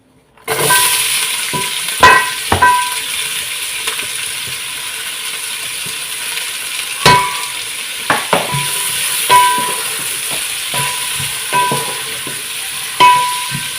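Chopped onions frying in a pan for bitter gourd curry, a continuous loud hiss of sizzling oil heard close up, with scattered clinks and scrapes of a spoon against the pan.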